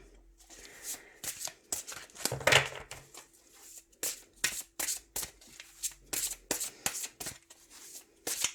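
Large tarot cards being shuffled by hand, a rapid series of crisp riffling bursts and slaps at close range, with brief pauses between.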